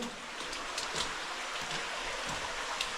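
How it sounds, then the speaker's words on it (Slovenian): Water trickles and flows steadily somewhere beyond the spot in a cave near a spring in central Istria, a soft continuous rushing wash with faint splashy ticks and no voices. "Čeprav se sliši tam naprej še voda"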